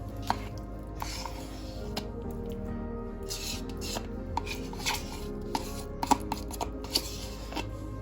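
Cream cheese and condensed milk are beaten in a bowl, a soft, wet, repetitive squishing and scraping with light knocks of the utensil against the side, close up and without talk.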